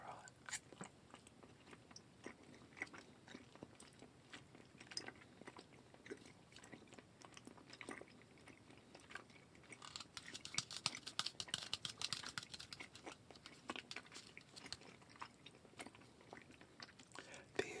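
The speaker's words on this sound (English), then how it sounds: "These little candies are quite firm and chewy" Small firm jelly candies chewed very close to the mic, producing a rapid stream of tiny crisp clicks and sticky squelches, faint but steady and growing busier toward the end, with no voice.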